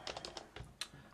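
Several quick keystrokes on a computer keyboard as a terminal command is typed, close and crisp with small uneven gaps between taps, no voices.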